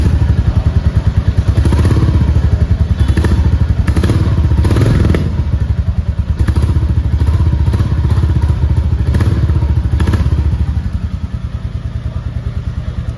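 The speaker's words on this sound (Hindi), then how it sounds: "एक बार मैं आपको इस बाइक का एग्जॉस्ट नॉइज़ सुना देता हूँ" Royal Enfield Classic 350 (2023, Gunmetal Grey) idling with a loud, steady thumping exhaust beat, close up, with a few brief revs and light mechanical clatter, no talking.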